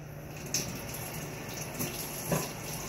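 Water running steadily from a tap into a container to rinse a cat during a bath, a soft continuous flow with a couple of small splashes, fairly faint and with no talking.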